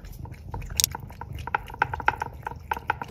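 Cats eat pâté from a dish nearby, giving wet smacking and chewing clicks in an irregular patter, fairly close, with no talking.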